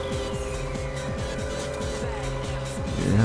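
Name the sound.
car drifting in Ridge Racer 7 video game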